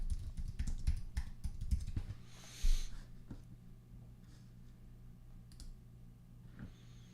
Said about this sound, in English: let me see here. Let me type that in.